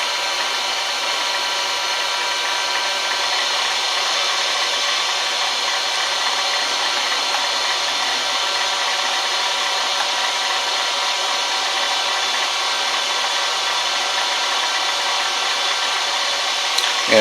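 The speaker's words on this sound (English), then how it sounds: "The motor appears to be turning at full RPMs, and the reverse is true here." A 230V three-phase gear motor driven by a 110V single-phase inverter, running at high speed, gives a steady, continuous mechanical whine and hum with no pauses and no voices.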